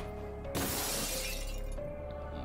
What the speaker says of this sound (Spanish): A romper cristales.